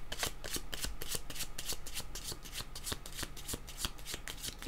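A deck of tarot cards is handled and shuffled in a steady, rapid riffle, crisp close rustling and flicking repeating evenly throughout with no talking.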